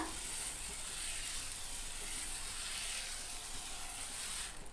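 Dosa batter sizzles on a hot tava in a continuous, even hiss, close and fairly quiet, steady throughout with no speech.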